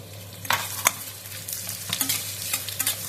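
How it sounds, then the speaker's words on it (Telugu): Onions and tomato pieces for Andhra-style poha upma sizzle in a pan while a spoon stirs them, soft steady frying with a few sharp scraping strokes, close and alone. "ఒక 2 నిమిషాలు కొంచెం ఇలా వేగనిద్దామండి"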